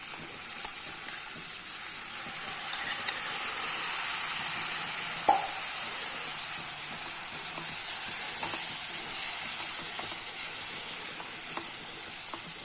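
Rice stirred into a frying tomato mixture, a bright continuous sizzle with soft scraping strokes and occasional spoon taps, close and steady throughout.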